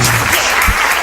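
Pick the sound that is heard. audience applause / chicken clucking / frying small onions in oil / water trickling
audience applause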